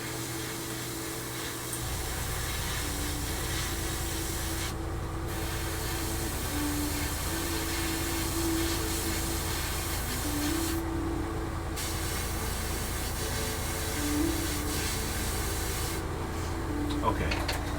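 Airbrush spraying a second coat of paint onto a 1/32 scale P-40E Warhawk model, a steady close hiss running almost continuously with a few brief pauses in the airflow.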